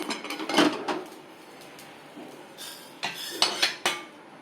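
Small dry grains of roasted spices rattle and scatter onto a metal plate in quick bursts, with faint scraping and clinks in between, close by.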